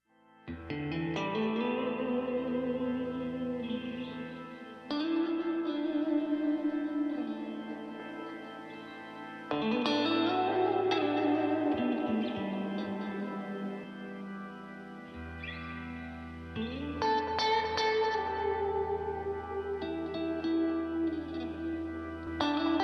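Rock music with electric guitar playing chords and bends in sections, with short pauses between phrases, moderately loud and reverberant.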